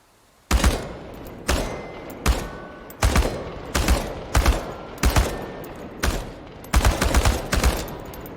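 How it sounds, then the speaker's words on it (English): Bursts of automatic gunfire at cans on a practice range in the game Chernobylite, about ten loud, sharp volleys spaced roughly a second apart, each a short rattling burst with a booming low thump. "The biggest challenge is compensating for recoil in automatic firing mode."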